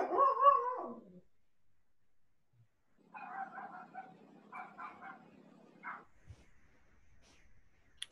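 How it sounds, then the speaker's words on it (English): A dog in a backyard barks back and forth with a neighbour's dog: a short burst of barks, a pause, then a longer run of quieter, slightly distant yips and woofs. "My dog's having a conversation in the backyard with his neighbor friend."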